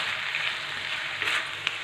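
Bottle gourd frying in a paneer gravy, a dense continuous sizzle close by with a couple of soft stirring taps near the end, no voices.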